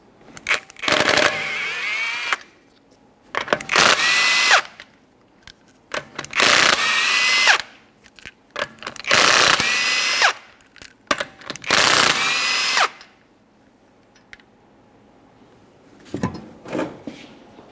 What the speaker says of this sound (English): to remove the wheel, remove all 5 of your 21mm lug nuts